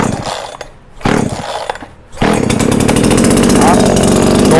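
A Sunil 76 chainsaw engine being pull-started: two short sputtering pulls, then the motor catches and runs with a loud, steady buzzing drone close by.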